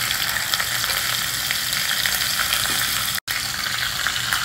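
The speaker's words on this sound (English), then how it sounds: "Heat some oil, add mustard seeds and 2 green chilies I have chopped." Mustard seeds and chopped green chilies sizzle loudly in hot tempering oil, a steady crackling fry that runs without pause apart from one brief cut near the end.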